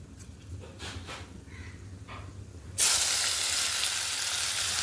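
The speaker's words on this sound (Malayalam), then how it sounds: "എണ്ണയും അടിച്ച് ഉലുവായിട്ട് ഉള്ളി മൂത്ത് വരുന്നത് കേട്ടോ" Sliced onions and fenugreek seeds dropped into hot oil in a home kitchen, a sudden loud, steady hiss of frying that begins partway through after quiet background noise.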